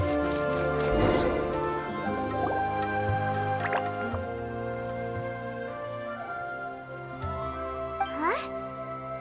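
Water droplets in Genshin Impact falling in a series of clear, bright plinks and liquid drips over a soft tonal game music bed, several drops spaced irregularly, near and distinct.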